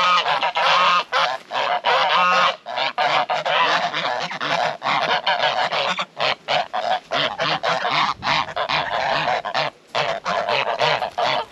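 Geese on a farm honk loudly and close by in dense, overlapping calls that run nearly continuously, with only brief gaps between the harsh nasal blasts.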